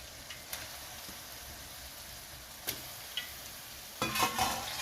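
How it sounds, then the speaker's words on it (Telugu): Chicken pieces drop into hot oil alongside fried chilli garelu and sizzle faintly, with a few light stirring clicks and a louder burst of crackling near the end. "ఇలా డీప్ ఫ్రై అయిన తర్వాత ముందుగా కడిగి పెట్టుకున్న చికెన్ ఇందులో వేసుకోవాలి"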